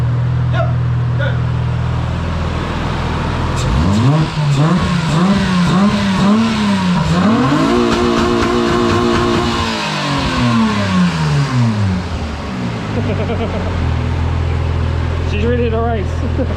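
Rebuilt race car engine running nearby, idling and then revving repeatedly in rising and falling sweeps before settling back to a steady idle, loud throughout.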